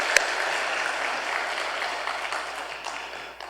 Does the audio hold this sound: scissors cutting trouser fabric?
no